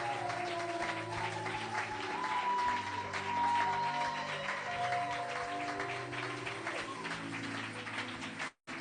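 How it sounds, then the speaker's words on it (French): A church audience claps together in a sustained, even patter for several seconds over soft held musical tones before it cuts off abruptly. "Clap according to your personality."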